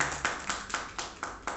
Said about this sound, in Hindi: एक बार जोरदार तालियां सूरजमणि साहब के लिए।